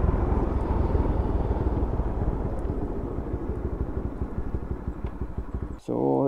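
A modified Yamaha FZ-S V1 motorcycle engine runs steadily at close range with a low pulsing rumble for several seconds, then cuts off abruptly before a brief voice.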